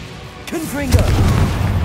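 A voice shouts briefly, then the Confringo spell in Hogwarts Legacy erupts in a loud, close boom that rumbles on beneath the game's background sound.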